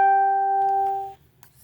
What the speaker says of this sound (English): I've got a notification apparently that I don't have turned off.